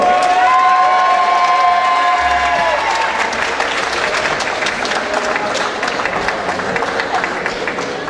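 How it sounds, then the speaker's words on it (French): Loud audience applause and cheering for a contestant at the Miss Oise 2017 beauty pageant, dense clapping with whoops and shouts, a sustained tone sounding briefly at the start. "La candidate numéro 12 que vous pouvez applaudir bien fort"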